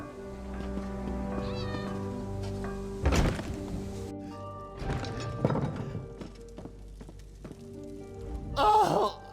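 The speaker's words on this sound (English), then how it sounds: "Damnable cats!" Cats in the Elder Scrolls Online Morrowind video game meow several times, up close and clear. Dull thunks and hoof-like clopping sounds mix in, with a sharp burst near the end.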